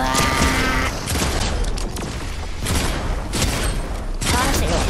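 Dense, loud bursts of gunfire in Fortnite, sustained and chaotic for several seconds with brief dips, close and overwhelming.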